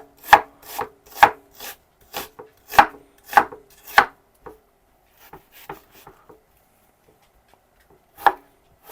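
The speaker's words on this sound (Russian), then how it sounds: "Меленько режу лук." A knife finely chopping onion on a board, about seven sharp, evenly spaced cuts, then a pause with faint handling sounds and one last cut, close and clear without talk.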